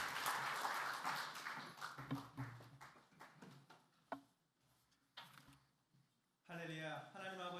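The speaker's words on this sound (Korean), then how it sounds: "하나님께 영광의 박수 드리겠습니다." Congregation clapping at a men's fellowship prayer meeting in a Korean church, a burst of scattered hand claps near the start that thins out, with a voice speaking over and after it.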